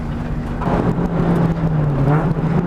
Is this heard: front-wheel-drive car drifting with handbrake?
yes